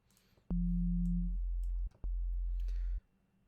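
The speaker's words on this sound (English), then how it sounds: "So I start with a sine wave, bring in another one" Synthesizer sine-wave dubstep bass: a steady low tone starts at half a second with a higher layer that fades after about a second, cuts out briefly near two seconds, then resumes and stops at three seconds, loud and clean with no talk.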